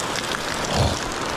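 Heavy, continuous rain pours down steadily in a flood-prone home, a dense close hiss with a brief heavier swell near the middle.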